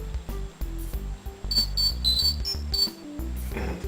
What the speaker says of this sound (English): we have the sound that my cell phone makes when I get a text message